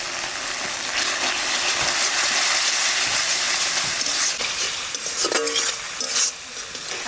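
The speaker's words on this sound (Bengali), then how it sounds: "এবার একে একে সব মশলা দিয়ে দেবো লবণ হলুদ জিরে ধনে একসাথে গুঁড়ি" Salt, turmeric, cumin and coriander powders fry in oil in a pan with a loud, continuous sizzle, and a spatula scrapes and taps against the pan as they are stirred.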